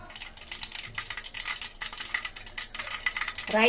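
Rapid, dense crackling and popping of a quarter teaspoon of mustard seeds spluttering in a tablespoon of hot oil for tempering, steady and close throughout.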